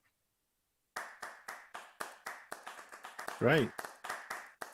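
Scattered hand claps from several people on an online webinar, a quick uneven burst of separate claps over a few seconds with a brief voice speaking in the middle.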